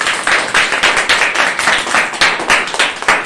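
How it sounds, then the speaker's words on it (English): An audience at a school Republic Day celebration applauds loudly and steadily, dense hand clapping pulsing close by with no talk over it. "Please have a huge round of applause."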